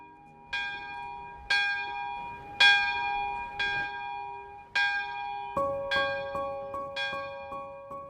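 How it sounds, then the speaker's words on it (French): Bell of the restored chapel at the royal château of Amboise ringing clearly, with a steady series of resonant strikes, each ringing out and overlapping the next, then a quicker run of strokes toward the end. "La cloche, elle viendra rythmer et puis marquer les temps forts du château."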